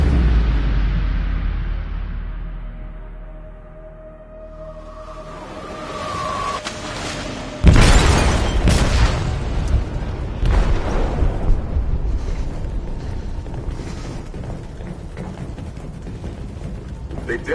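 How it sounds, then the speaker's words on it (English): An explosive detonating in a ship's hold in the game Detroit: Become Human, a sudden loud boom after a fading rumble, followed by sustained roaring, crashing debris and rumbling. "They detonated an explosive in the hold."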